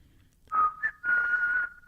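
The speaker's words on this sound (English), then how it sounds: "she should go out of that segment every week with the whistle" A person whistles a short tune: two brief notes followed by a longer sustained pitch, clear and close in a quiet room.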